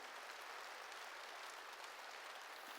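A church congregation claps steadily during a sermon, a dense even patter of many hands at moderate distance, continuing without pause and with no voices.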